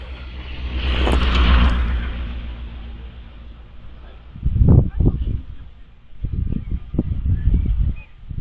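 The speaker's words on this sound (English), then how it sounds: "As we see cars heading back down the hill now" Historic hillclimb cars at Prescott drive back down the hill, engines rising and fading in several separate passes at moderate distance, with a commentator talking over them.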